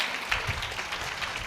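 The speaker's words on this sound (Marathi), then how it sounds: "टाळ्या वाजून देवाला धन्यवाद देऊया" A church congregation claps together in thanks to God, a brief, fairly quiet patter of many hands heard from a distance.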